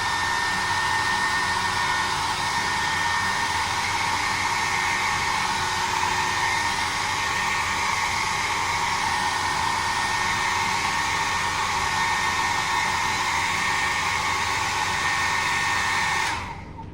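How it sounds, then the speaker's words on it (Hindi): A hair dryer blows steadily and loudly throughout during a haircut, a continuous close whoosh with a faint high whine, cutting off just before the end. "फिर बाल में जो है ना इस तरह से ड्रायर लगाना है"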